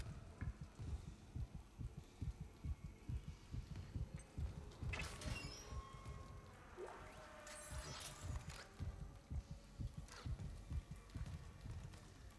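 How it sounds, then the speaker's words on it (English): In the Dead Space video game, a rhythmic thumping heartbeat pulses steadily and fairly quietly over eerie ambience, with occasional faint metallic creaks and clanks. "Oh, they even put a heartbeat."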